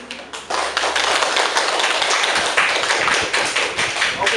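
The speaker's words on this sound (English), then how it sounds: "Once more, give applause for Budi." An audience claps steadily for a student presenter at a class session on reading, writing and oral strategies, with dense, even applause filling the whole stretch with no speech.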